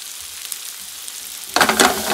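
Peppers and onions hit a hot pan after a quiet, faintly sizzling start, then burst into loud, close frying crackle for the last stretch with stirring in the mix.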